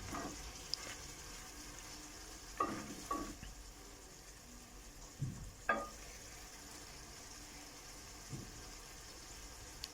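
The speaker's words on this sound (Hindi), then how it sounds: "मिक्स कर लेते हैं," Spoon stirring a pot of potato and moong dal curry with green chilli, fresh coriander, ginger and garam masala, giving a few soft scraping strokes over a low, steady sizzle of the simmering gravy, with no talking.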